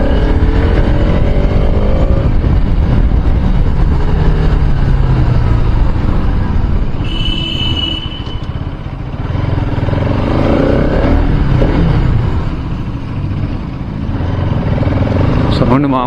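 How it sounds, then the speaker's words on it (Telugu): A motorcycle engine roars and echoes beneath a railway bridge on a rural off-road ride, loud and close, with swells and slight dips in revs as the bike passes through. "బ్రిడ్జ్ కింద రీసౌండ్ మస్తు వస్తుంది. ప్రతి ఒక్క బైక్ అట్లా వస్తుంది మంచిగా."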